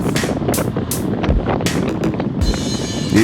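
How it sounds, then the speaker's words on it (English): Strong wind buffets the microphone in steady low rumbling gusts during a group road cycling ride, with a rushing roar throughout and no voices. "The wind, I dubbed it because the wind is here. It's so windy."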